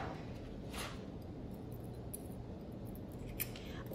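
Scissors snipping out a paper butterfly design for blow-up nail art, soft steady cutting under a constant background hiss, with a couple of faint sharper snips and no talking.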